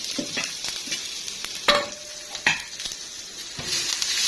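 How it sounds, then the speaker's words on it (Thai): Herbs and aromatics sizzle in a little hot oil as they are stir-fried for Thai larb, a steady crackling hiss broken by sharp scrapes and clacks of a utensil against the pan, close and with no talking. "ผัดให้เครื่อง สมุนไพรเราหอมก่อนนะครับผม"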